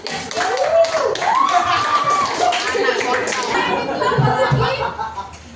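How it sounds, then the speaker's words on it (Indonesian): A class of students claps for a classmate's answer in a physics lesson, in a brief burst of fairly close hand claps mixed with chuckles and overlapping voices. "Beri tepuk tangan dulu"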